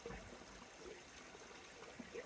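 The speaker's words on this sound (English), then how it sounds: "You can listen to the sound of the water." Water flowing gently outdoors, a soft continuous trickle heard faintly and steadily throughout with no talk over it.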